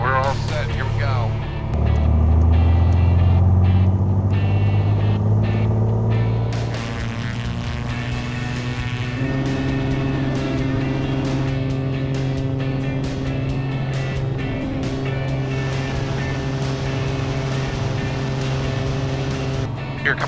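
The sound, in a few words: Piper airplane engine during takeoff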